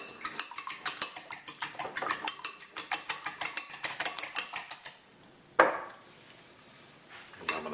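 Eggs whipped in a bowl make a fast, steady run of rhythmic clicking strokes, close and crisp, then stop, followed by a single louder knock and quieter handling.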